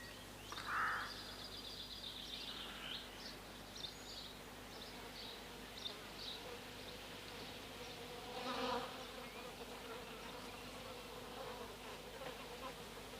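Bees buzzing around their hives, a steady insect drone with individual bees swelling louder as they fly close past, plus a faint bird call in the background.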